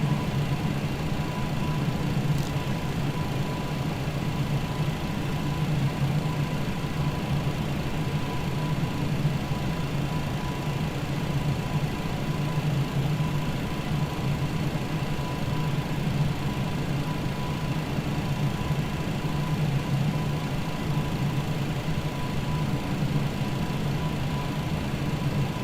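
An MD-11 jet engine spools up in Microsoft Flight Simulator, heard as a steady, droning rumble with a faint whine held at an even level throughout, no voices present.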